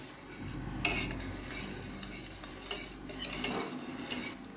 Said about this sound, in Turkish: Ve sadece tereyağı eriyene kadar karıştırıyoruz.